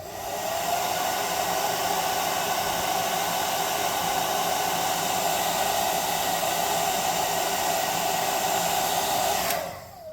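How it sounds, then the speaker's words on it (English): An air gun blasts a continuous, loud, hissing stream of air to dry a part for a neon sign, holding steady for several seconds before cutting off abruptly near the end. "We need to dry that off with the air gun."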